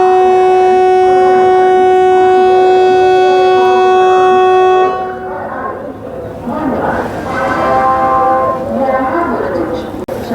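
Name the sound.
Amrit Bharat Express train with WAP-7 locomotive departing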